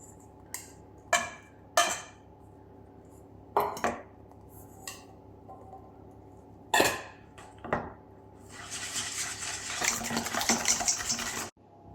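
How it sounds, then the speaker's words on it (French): Yogurt, mascarpone, sugar and vanilla being mixed in a bowl, with a series of sharp utensil clinks and scrapes against the bowl, then a longer wet, swishing stretch of stirring near the end. "on va mélanger le yaourt, le mascarpone, le sucre"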